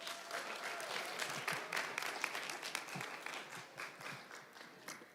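Audience applause at a business conference, a fairly quiet, continuous patter of many hands clapping with a few louder individual claps standing out.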